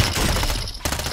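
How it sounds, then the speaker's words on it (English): Dense gunfire in Call of Duty fills the whole burst, a loud continuous fusillade of rapid shots with a brief dip near the end before firing resumes. "We're getting shot at."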